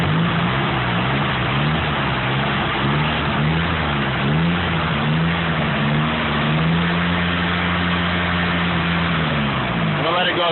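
A Nissan SR20 red top engine idles roughly, its low steady hum wavering and stumbling throughout, close and continuous, with a brief change near the end as it nearly stalls.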